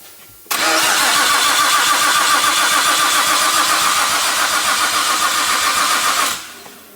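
A swapped RB26DETT engine in an R34 Skyline cranks for about six seconds, a loud, steady, dense whirring drone close up that then cuts off abruptly.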